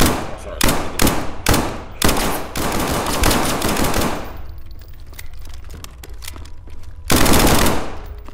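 Rapid bursts of automatic gunfire from a gun in SCP: 5K, loud and close, with several short volleys early, a quieter pause, and one more burst near the end.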